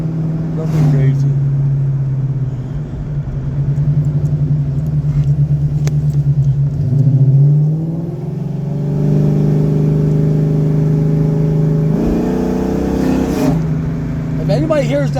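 A car engine with a stall converter rumbles at idle, then revs up in a rising sweep, settles into a steady higher drone and revs again near the end, loud and close, with people talking faintly over it.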